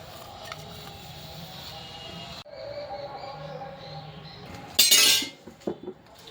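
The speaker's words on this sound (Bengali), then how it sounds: "ওইদিকে এখানে বাসন মাজছি" Utensils and dishes clink and scrape during washing, with steady running-water hiss and a sharper burst of clattering near the end, heard up close.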